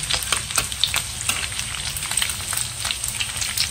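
Bacon sizzling in a frying pan, a steady loud crackling hiss dotted with sharp pops, heard close with no voices.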